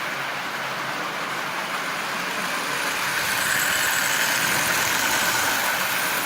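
A Marx single reduction toy train motor under a 400 shell runs steadily on rail at about half power, giving a continuous, even whirring hum and track rumble at a constant speed, close and moderately loud with no talk.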